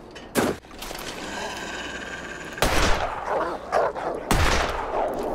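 Three sharp, loud gunshots from The Long Dark, a survival video game, ring out at uneven intervals, each with a short booming tail over a low ambient wash.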